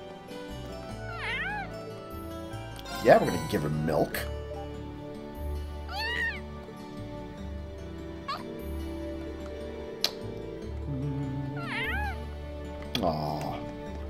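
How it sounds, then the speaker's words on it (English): Several cat meows from a kitty in the video game The Legend of Heroes: Trails of Cold Steel, rising and falling in short repeated calls over looping game music, with a person talking over parts of it. "It's a kitty!"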